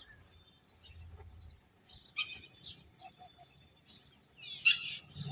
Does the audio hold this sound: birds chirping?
yes